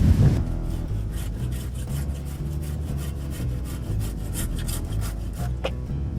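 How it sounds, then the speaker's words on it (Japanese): A hand saw cuts through wood pieces of equal length for a shelter, with steady rapid back-and-forth strokes, close and alone. "とりあえずこれ同じ長さで切っていきます"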